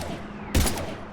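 A brief burst of gunfire in the sci-fi shooter Mass Effect 3, one sharp crack-like blast rising out of a faint, low background hum, moderately loud and short.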